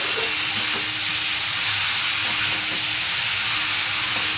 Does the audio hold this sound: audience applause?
no